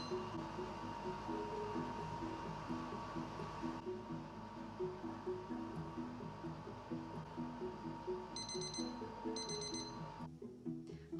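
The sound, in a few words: kitchen timer alarm while baking scones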